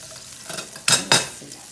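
Pork chops frying uncovered in a skillet for smothered pork chops, with a soft steady sizzle broken by two loud, close bursts of stirring or scraping in the pan.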